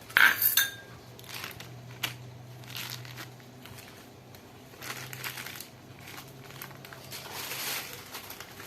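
A spoon scrapes and clinks against a bowl in irregular stirring strokes while making ice cream, close and moderately quiet, with no voices.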